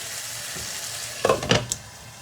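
Meat cooks in a pot with a quiet, steady sizzle and a couple of brief stirring clatters near the end, no voices.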